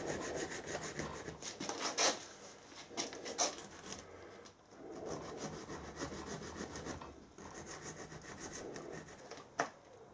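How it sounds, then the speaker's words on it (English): Small cheap diamond files rasping by hand to clean up a slot in a part from an air rifle gas ram, giving close, steady scraping strokes in uneven bursts with short pauses between them. "They're very, very effective, little cheap diamond files."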